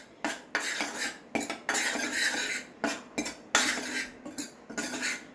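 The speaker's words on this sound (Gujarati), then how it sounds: "આ લોટને તમારે ઘીમાં સારી રીતે શેકી લેવાનો છે" A spatula scrapes and clatters in irregular bursts against a pan as wheat flour roasts in ghee for the Gujarati sweet garmalo. The sound is close and fairly loud, with brief pauses between strokes and no voices.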